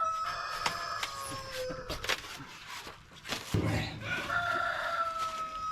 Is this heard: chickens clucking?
yes